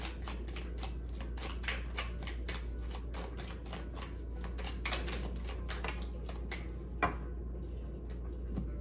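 Tarot cards being shuffled by hand, a dense run of soft riffling flicks and snaps, close and steady over a low background hum, with no voice.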